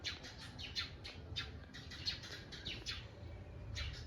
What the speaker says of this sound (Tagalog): Daming ibon.